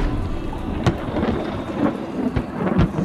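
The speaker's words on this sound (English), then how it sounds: "It's been raining all day." A thunderstorm with steady rain pouring down on surfaces. Several sharp thunder cracks and rumbles break through the constant hiss of the downpour.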